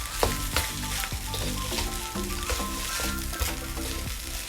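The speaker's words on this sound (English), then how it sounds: "I'm adding some sweet corns. Again, I do love sweet corns in my stir fry." Fried rice with sweet corn stir-fried in a hot pan, giving a loud, continuous sizzle with occasional scraping stirs, while tonal background music plays underneath.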